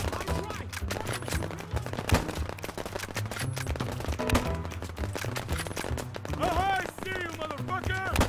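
Gunfire crackles in a toy soldiers war game, sharp shots and bursts scattered throughout a dense battle mix, with voices and other game effects layered underneath.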